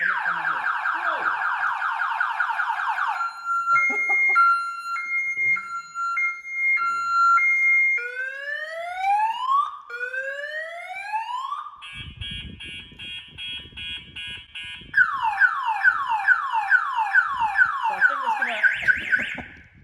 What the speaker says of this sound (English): So I think most people will realise that's obviously got an alarm